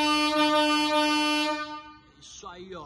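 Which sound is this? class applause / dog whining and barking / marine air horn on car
marine air horn on car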